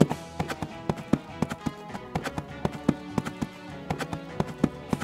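Horses galloping over a jump course, their hooves beating in quick uneven clusters of sharp thuds, steady and moderately close, with no talk over them.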